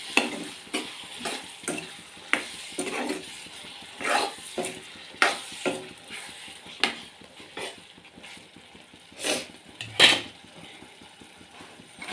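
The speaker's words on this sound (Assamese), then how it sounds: "এইখিনি মই আকৌ এবাৰ ধুনীয়াকৈ ভাজি ল'ম।" Spices with salt and turmeric frying and being stirred in a pan before potatoes go in, with repeated scraping stir strokes over a soft sizzle, close and moderately loud, no talking.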